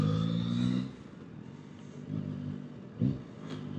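A Yamaha R9 sport motorcycle filtering between cars in traffic, its engine droning near at first, then easing off and swelling again in short revs among passing vehicles.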